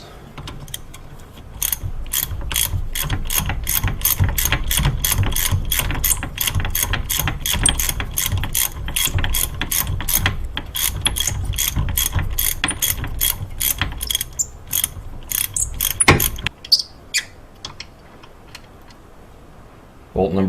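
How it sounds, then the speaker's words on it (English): A ratcheting socket wrench works a bolt on the rear hub of a Nissan 240SX S13, giving a long, steady run of rapid, loud clicks that slows into a few scattered ticks near the end. "it pretty much looked like a straight socket would just go right onto the head of the bolt"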